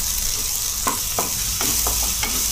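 Ginger garlic paste and cumin fry in a pan with a constant close sizzle, broken by several short stirring scrapes.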